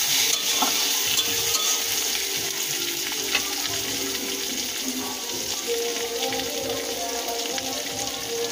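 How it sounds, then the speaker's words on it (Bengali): Masala spice paste frying with chopped tomatoes for a crab curry, a dense, steady sizzle with scraping stirs and a faint trickle of water, close and loud throughout. "টমেটো কুচিগুলো দিয়ে দেবো। মশলাটা কষানো হয়ে গেছে।"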